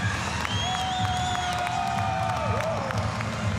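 A crowd cheers and applauds for an Australian weightlifter at the Invictus Games 2023, with whoops and clapping over a steady roar and high whistles cutting through, no talk.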